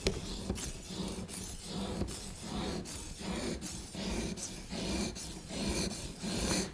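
A knife is drawn along the stone of an Edge Pro Apex sharpening system in about ten steady, repeated rasping strokes, each ending in a brief click, close and clear with no talk.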